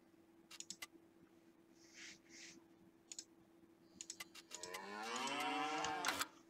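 A cow in the farming video game Farming Simulator 19 lets out a long, drawn-out moo near the end, preceded by scattered sharp mouse or keyboard clicks and faint game sounds, with no speech.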